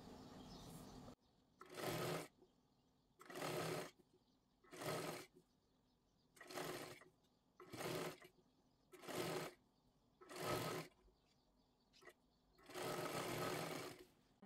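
A sewing machine stitches a 42-size katori blouse in repeated bursts of running, each lasting about a second with short pauses between, close and steady, with no one talking.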